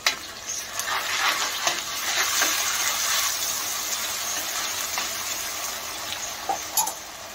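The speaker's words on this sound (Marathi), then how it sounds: "आता यामध्ये मी पेस्ट केलेली आहे तर ती घालत आहे।" Ground spice paste tossed into hot oil in a pan for vegetable pulao, giving a steady soft sizzle with occasional clinks and scrapes of stirring, close and moderately quiet, no voices.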